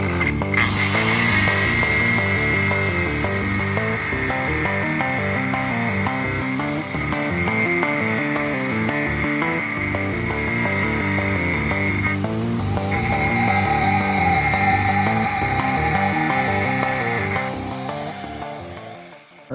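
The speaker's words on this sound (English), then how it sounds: "I've never cut a keyway into this shaft or any other shaft, to be honest, with a grinder before" An angle grinder cuts a keyway into a steel shaft, a loud, steady high whine with a rough grinding texture that runs almost the whole time, briefly changing pitch before tapering off at the end.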